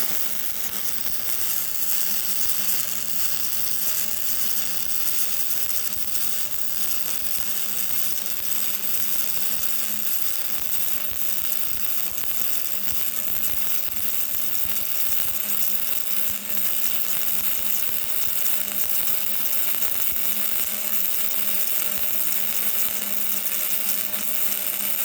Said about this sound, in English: And that is a flux core weld on heavier steel.